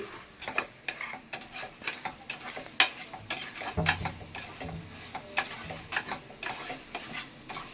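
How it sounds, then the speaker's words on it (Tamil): Mutton being stirred and sautéed in a pan for mutton curry, with repeated clacking ladle strokes against the vessel over a soft, continuous sizzle, close and without talk. "நல்லா வதக்கிடுங்க மட்டன் குழம்பு."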